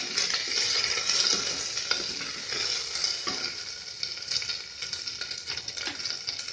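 Onions sizzle steadily in hot oil in a pressure cooker while cooking down for vegetable biryani, a continuous close frying hiss with occasional stirring scrapes and no voices.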